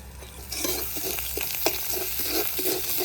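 Puffed rice mixed with sugar and salt fries in a wok with steady sizzling, and a spoon stirs through it in scraping, clinking strokes at close range.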